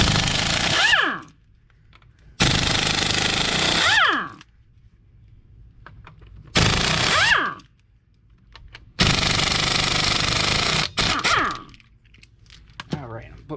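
Pneumatic impact wrench breaking loose the front wheel lug nuts on a 2001 Buick LeSabre Custom, four loud rattling bursts of a few seconds each separated by quiet gaps, close to the tool.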